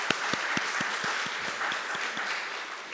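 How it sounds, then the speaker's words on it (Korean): A church congregation at a Sunday service claps in unison, a steady rhythmic beat of about four claps per second over a softer wash of scattered applause. "하나님께 영광의 박수 함께 하겠습니다."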